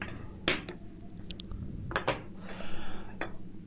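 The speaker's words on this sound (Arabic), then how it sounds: "لازم نقطع الكان بالطريقة ديت، فهنمسك المقص" Scissors cutting into an aluminium drink can, producing a few sharp metallic snips and crinkles spaced apart, close and fairly quiet.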